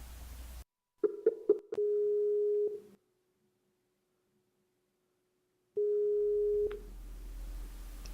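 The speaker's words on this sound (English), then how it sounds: "Let's get out the spline phone and give Bruce a call" Telephone line tones while a call is placed: a few short beeps, then a long steady electronic tone, a pause of silence, and a second long tone, clear and alone.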